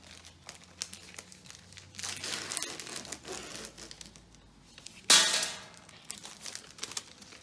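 Sterile scissors packaging in a veterinary nursing setting being torn open, with soft crinkling of the wrapper followed by one sharp, loud tearing burst, close to the microphone and with no talk.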